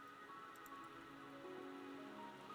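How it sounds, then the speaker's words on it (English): Rain falling in the video game Wuthering Waves, a steady soft hiss of rainfall with faint drops, continuous and even, low in level with no talk. "Don't worry, the rain won't last much longer."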